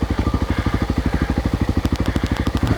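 Honda XR600R motorcycle running in third gear at low speed, a steady loud thumping single-cylinder beat with rhythmic exhaust pulses and some mechanical clatter, close and continuous.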